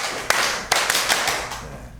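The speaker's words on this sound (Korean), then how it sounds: "다시 한번 기회를 드리겠습니다. 박수 5번." A church congregation at an evangelistic meeting claps in unison five times, each clap a crisp burst of many hands, fairly loud and close, spaced unevenly over about two seconds.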